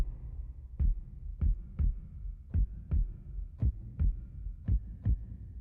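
Synthesized heartbeat sound effect built in audio software: nine deep, low thumps in a steady, evenly spaced pulse about every 0.6 seconds, close and moderately loud over a faint hum, with no voices.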